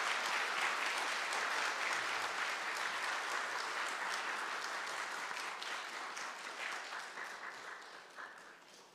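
A church congregation at a Sunday service claps for the children, a broad, steady applause from a large room that holds evenly and then tapers off toward the end.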